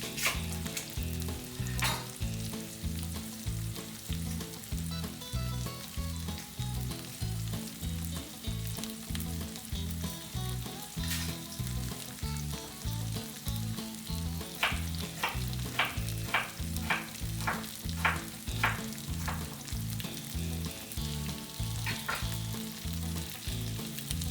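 Sweet onion sizzles steadily in a hot frying pan while it is stirred, with a continuous close frying hiss and a run of sharp utensil scrapes and clicks against the pan partway through.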